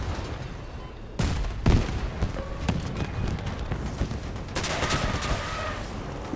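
Gunfire from vehicle weapons in the combat game Crossout: a burst of shots and impacts, loud and close, with sharp onsets over a steady engine-like rumble and no talk.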